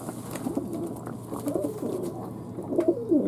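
Pet birds, pigeon-like, cooing in repeated low, throaty phrases that swell and fade, close by and steady, with no voices.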